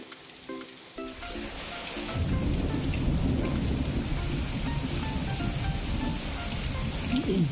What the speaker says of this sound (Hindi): बारिश और तेज़ हो गई और बारिश के साथ ओले भी गिरने लगे।